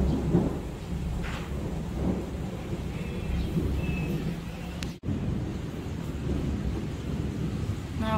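Thunder rolls during a heavy thunderstorm with pouring rain, a low continuous rumble over steady rainfall, with one sharp click midway and no talking.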